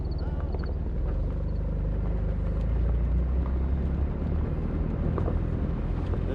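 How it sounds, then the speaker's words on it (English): A 1987 Porsche 924S with a jumpy tachometer drives on its first ride, its engine a steady low rumble with continuous road and wind noise that stays loud throughout. "Let's see, first ride on the Porsche"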